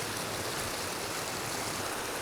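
A clear mountain creek rushes steadily nearby, a dense, even wash of flowing water with no pauses or voices.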